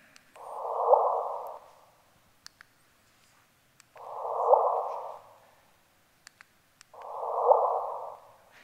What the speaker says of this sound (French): le signal caractéristique du spiralement, puis de la fusion de deux trous noirs